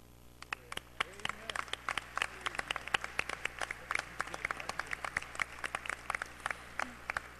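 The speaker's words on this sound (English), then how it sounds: "we give them a round of applause" Scattered applause from a banquet audience at an NAACP Freedom Fund dinner, individual claps standing out sharply as guests are honored, with some voices in the room.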